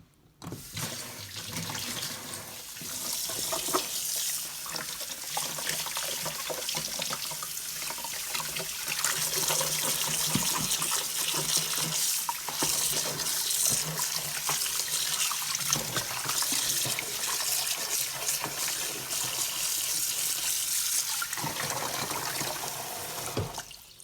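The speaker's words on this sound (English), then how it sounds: "I'm going to wash in a cold water for a couple times" Cold tap water running steadily into a sink while salted cabbage is washed for kimchi, a continuous close splashing rush with small shifts as the leaves are handled.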